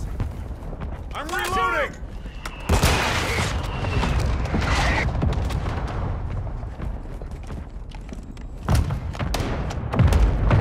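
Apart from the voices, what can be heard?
mortar strike explosions in Call of Duty Modern Warfare video game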